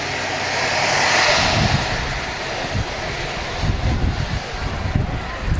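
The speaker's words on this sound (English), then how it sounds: "Only 6 years old, that aircraft." An aircraft at a windy Manchester Airport, a broad engine roar swelling and fading under heavy wind buffeting on the microphone, with low rumbling gusts continuing after the jet passes.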